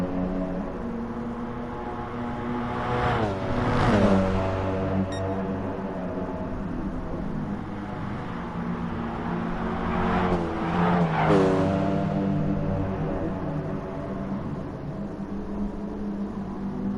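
Race car engines in a sim-racing game at Lago Maggiore West drone steadily, with two loud passes rising and falling as cars sweep by, layered over a continuous engine hum.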